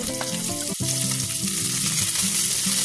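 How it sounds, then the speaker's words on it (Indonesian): Sliced spices sauté in cooking oil in a pot, giving a loud, continuous sizzle and crackle with occasional stirring clatter. "Tumis bumbunya sampai keluar aromanya"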